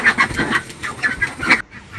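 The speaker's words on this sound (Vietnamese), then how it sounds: "Đây là vịt đẻ trứng nè." Large egg-laying farm ducks in a flock quack close by, a rapid series of loud raspy calls that stops abruptly near the end.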